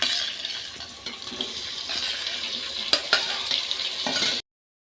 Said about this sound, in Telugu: ఇప్పుడు ఇందులోకి టమాటా వేసుకుందాము.